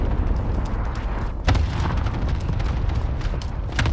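A heavy artillery strike in Call of Duty lands as a deep boom around the middle, set within a steady rumble of battlefield noise and scattered smaller bursts.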